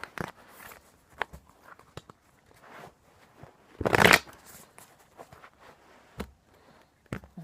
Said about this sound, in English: I am like having a hard time shuffling.